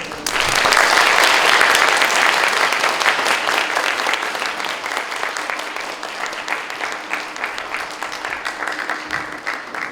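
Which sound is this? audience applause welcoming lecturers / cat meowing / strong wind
audience applause welcoming lecturers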